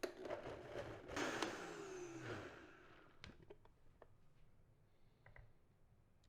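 A blender whirs loudly for a few seconds, blending peppers and broth for enchilada sauce, its motor pitch shifting as it churns, then winds down, leaving quieter clicks and light handling sounds.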